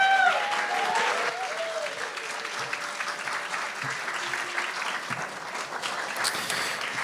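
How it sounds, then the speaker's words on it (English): A comedy-club audience at The Bedford applauds to welcome a performer to the stage, a dense, continuous round of clapping that holds steady throughout with faint crowd noise. "would you put a little extra love and energy into your applause and welcome to the stage our good friend"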